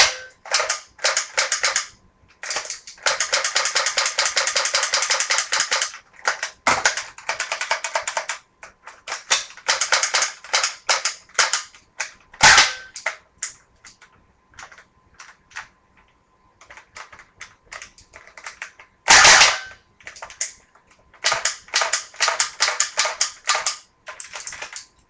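Nerf gun firing foam darts in rapid semi-automatic bursts, sharp clacking shots in irregular clusters with two louder cracks, close by and without talk.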